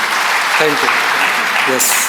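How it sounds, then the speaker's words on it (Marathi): Audience applause at a sales meeting, broad steady clapping from a crowd filling the whole stretch, with someone briefly speaking his thanks over it. "तर एकदा जोरदार टाळ्या आपण यांच्यासाठी वाजवू."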